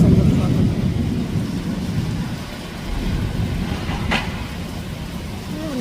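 Thunder rumbles low and steady through a windy, rainy storm, a continuous deep roll with rain noise on top, fairly loud and unbroken.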